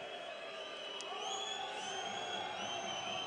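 Handball arena crowd at SG Flensburg-Handewitt versus FC Barcelona cheering after a goal, a steady broad roar of many voices with a few higher whoops, continuous and moderately loud throughout.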